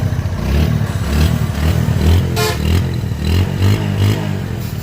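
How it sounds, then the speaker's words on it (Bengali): A second-hand Bajaj Discover 135 motorcycle in fresh condition idles nearby with a steady, throbbing single-cylinder putter and a light mechanical clatter, loud and continuous without talk. "ডিসকভারের যে সাউন্ডটা থাকে সেই সাউন্ডটাই কিন্তু গাড়িটায় আছে, এটাই আপনাদের দেখানোর চেষ্টা করছি। তো সাউন্ড ইঞ্জিনের সাউন্ডও দেখেন।"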